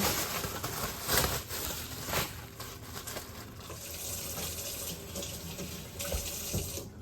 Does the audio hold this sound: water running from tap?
yes